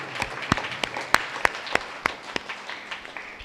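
A crowd claps to welcome priests at a Catholic feast Mass for the St. Ignatius shrine festival, with sharp, uneven claps rising and falling across a few seconds, moderately close.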